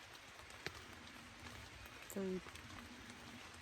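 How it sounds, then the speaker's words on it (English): Rain patters steadily on a campsite along the Appalachian Trail, a faint, even hiss with scattered drops, while a voice briefly speaks. "But anyway, it's raining."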